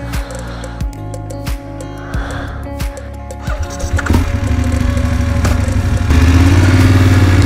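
A BMW 850GSA motorcycle sets off, its engine giving a series of sharp, evenly spaced idle pulses before revving into a louder, steady drone close by.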